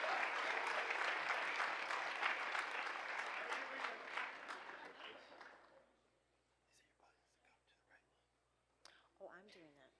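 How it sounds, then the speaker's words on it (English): Applause at a school board meeting and awards ceremony fills the first half, steady and fairly distant, then fades into quiet room murmur with faint voices and small noises. "Let's give him a round of applause."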